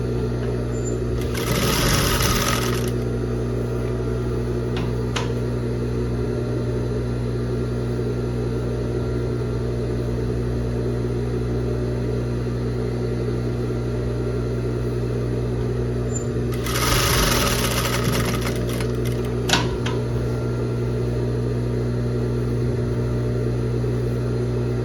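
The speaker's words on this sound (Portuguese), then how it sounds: "agora eu vou passar uma segunda costura pra finalizar aqui o acabamento do decote" A sewing machine runs a second seam along a blouse neckline, with a continuous steady mechanical hum and stitching rattle, close up. Two brief higher whirring bursts break in, with no talking.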